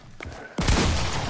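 Gunfire in a multiplayer shooter game: a sharp nearby shot bursts in, then a dense, loud rattle of firing continues, with voices faintly underneath.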